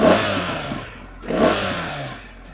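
A BMW R 1300 GS boxer twin motorcycle engine revs twice close up, each blip rising to a throaty rumble and falling back to a lumpy idle, with no talk over it.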